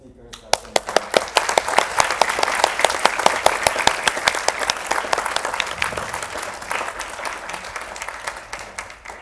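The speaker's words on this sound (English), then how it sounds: "can I have a round of applause for all of the speakers that came today" Audience applause for the speakers at the first TEDxNIC Youth event, a dense burst of many hands clapping that swells quickly and holds steady, loud and close, with a scattering of sharper individual claps throughout.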